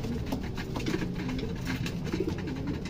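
Cooing pigeons murmur steadily at close range during an evening feeding, a dense, continuous low burble with faint pattering movement, and no talk.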